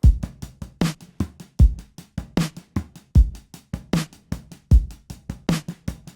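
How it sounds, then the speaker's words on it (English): A dry, unprocessed drum groove: punchy kicks and snares with quick hi-hat ticks between them, in a steady, even rhythm played alone. "here's the whole drum groove without any processing on it"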